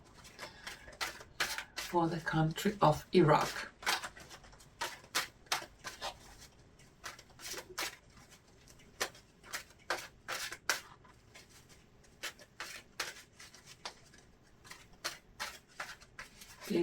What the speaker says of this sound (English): First, I'm gonna shuffle my tarot cards a little bit